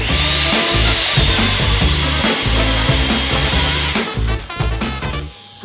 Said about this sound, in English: because I'm using some coarse salt, I'm gonna make sure that I blend it up again.